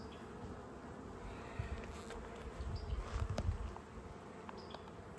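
Honeybees from a healthy, brood-filled colony hum continuously during a hive inspection, a close, steady buzzing swarm with no voices.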